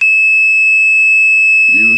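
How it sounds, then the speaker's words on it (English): A steady, loud, high-pitched electronic tone from the buzzer of a simple pizza box circuit sounds continuously throughout, with a brief burst of speech at the end. "you can use the buzzer."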